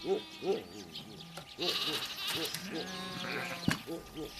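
Several sheep in a flock on a Tibetan pasture bleat in short wavering cries, two close calls early and more scattered bleats through the rest, over a faint busy background.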